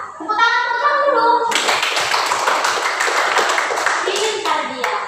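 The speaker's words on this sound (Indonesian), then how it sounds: "Tepuk tangan dulu." Students in a classroom clap their hands together in a lively, close burst lasting several seconds, right after a short spoken voice.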